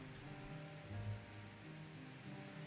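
Steady rain patters continuously in Final Fantasy XIV Endwalker, a soft, dense hiss with a faint low musical hum beneath, no voices.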